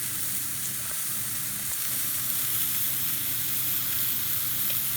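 A sirloin steak fries in a pan with a steady, dense sizzle and hiss, close and continuous without breaks, and nobody speaks over it.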